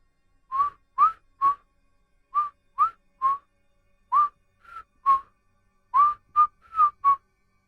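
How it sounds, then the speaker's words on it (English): Eerie whistling in a horror story: a series of short, clear whistled notes in small groups of two or three, separated by silent pauses, sounding isolated and close. "we heard the whistling."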